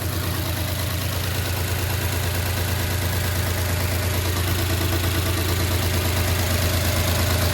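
A 1969 Chevrolet C10 pickup engine runs steadily on a makeshift fuel setup fed with ethanol-free 87 octane gas, a loud continuous idle with a deep low drone and faint knocking, no talk.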